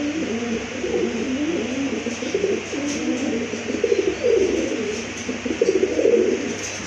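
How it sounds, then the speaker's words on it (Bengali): A pair of pigeons, a male and a female, cooing at a bird market, continuous low rolling coos close by over a steady background hum, with no talk. "খুবই ভালো মানের এক জোড়া কবুতর, ডিম বাচ্চা করানো"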